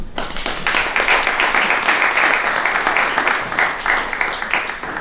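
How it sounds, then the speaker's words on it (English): An audience at a Hindustani music lecture-demonstration gives steady, rhythmic applause for a felicitated guru, the clapping even and close throughout. "Again, round of applause."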